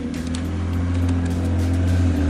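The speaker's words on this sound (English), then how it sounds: "Oh, that was my neighbor on the BMW who just drove by" A neighbour's BMW passes close by, its low, steady engine drone growing slightly louder as it goes, with no one speaking.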